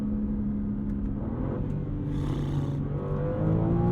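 A BMW M3 CS engine revving hard toward redline, loud and steady from inside the car with rising harmonic tones, no speech.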